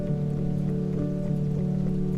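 Rain falls steadily in a dense, continuous patter with a low hum beneath it, close and even throughout, no voices.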